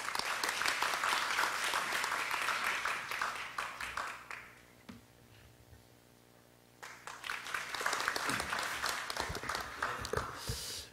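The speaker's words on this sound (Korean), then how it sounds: "박수로 앞으로 모셔보도록 하겠습니다." Audience applause at a Korean policy forum on welfare, a sustained burst of many hands clapping that fades to near silence midway, then swells again loudly for several seconds as the chairman is welcomed to the front.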